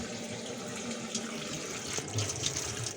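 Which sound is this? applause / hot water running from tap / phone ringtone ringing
hot water running from tap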